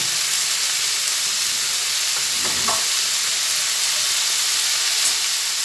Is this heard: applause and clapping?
no